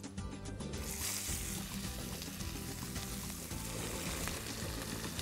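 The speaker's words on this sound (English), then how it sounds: "So we are frying the fish now." Steady crackling sizzle of fish frying in hot annatto oil, a dense continuous hiss with small pops, fairly close and uninterrupted.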